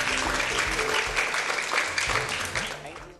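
Audience applause at a celebrity Raksha Bandhan gathering, a dense, loud, continuous wash of many hands clapping together that fades slightly toward the end.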